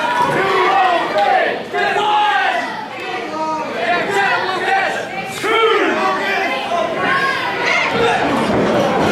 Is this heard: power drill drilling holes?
no